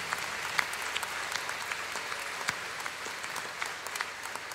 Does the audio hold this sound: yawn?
no